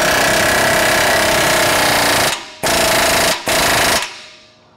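Impact wrench with an 18mm socket hammering bolts tight in three loud bursts, the longest first and two shorter ones after, each separated by a brief pause.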